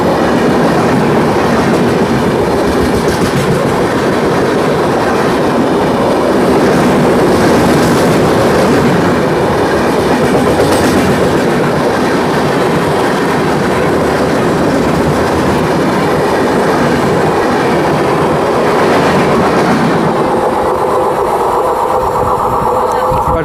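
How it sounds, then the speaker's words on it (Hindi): A WAP 7-hauled Ahmedabad-Puri superfast express roars past at high speed on a crossing, a loud, steady wash of wheel and wagon rumble that eases toward the end. "अच्छा खासा हाई स्पीड क्रॉसिंग था।"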